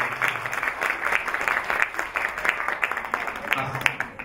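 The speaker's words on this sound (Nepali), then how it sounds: "ताली बजाएर स्वागत गरिदिनु" An audience welcoming a goodwill ambassador at a launch event applauds in a continuous, moderately distant wash of clapping, with voices faintly mixed in beneath the applause.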